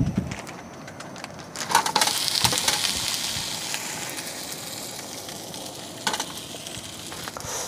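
Food sizzling in a pan with olive oil while camping, a steady bright crackling hiss that swells after a moment and holds, with a few clinks of utensils, close and moderately loud.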